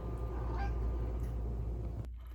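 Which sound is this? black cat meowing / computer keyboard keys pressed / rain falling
black cat meowing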